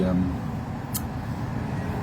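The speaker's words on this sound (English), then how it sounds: "Sorry about the traffic noise, by the way." Steady traffic rumble from a nearby main road fills the background outside a stone-carving workshop, a low continuous wash with a brief sharp hiss partway through.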